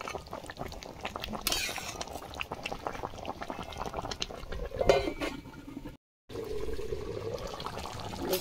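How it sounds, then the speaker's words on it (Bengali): Taro simmering in a covered pot on very low heat, bubbling and burbling steadily up close, with a few light clinks and a brief moment of silence. "এটা কিন্তু আস্তে আস্তে ফুটবে, কচুটা সেদ্ধ হবে"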